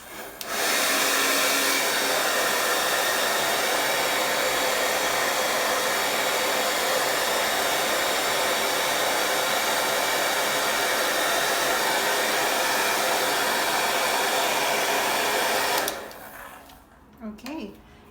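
A hair dryer blows steadily at close range for about sixteen seconds, drying paint on a painted Easter egg, then switches off, leaving faint handling noises.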